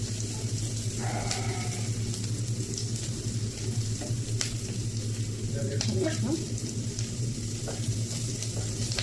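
Egg curry frying in a pan hisses and sizzles steadily while it is stirred, with small scraping clicks scattered through and faint voices in the background.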